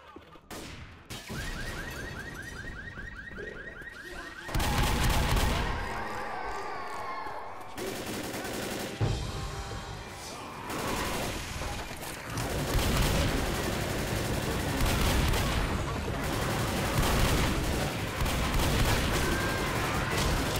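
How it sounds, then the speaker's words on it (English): Heavy machine gun fire in the Left 4 Dead zombie shooter, with loud, dense bursts of rapid shots that run almost continuously with brief breaks, under occasional voices of players talking. "Now this is a big ass machine gun."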